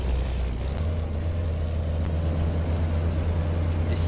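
A heavy truck engine drones in Euro Truck Simulator 2, a Brazilian BOB 15180 4x2 hauler with a straight-pipe exhaust, a deep, steady low rumble with faint hiss above, continuous and close with no talk.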